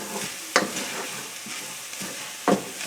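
Flour being stirred into hot sausage fat for a roux, with soft sizzling under repeated spoon scrapes against the pan, two sharper knocks standing out.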